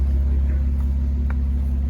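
Deep, steady engine rumble from a Jeep Wrangler climbing off-road obstacles on a mountain trail, a low droning hum held evenly throughout, close and moderately loud.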